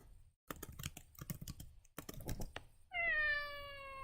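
Soft tapping and clicking like typing, then a cat lets out a loud, drawn-out meow close by.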